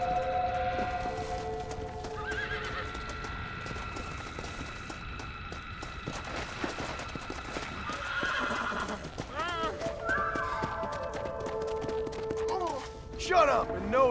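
A horse in the Red Dead Redemption Undead Nightmare video game whinnies repeatedly, with long shrill neighs over steady clip-clop hooves and a busy game soundscape, while someone talks throughout.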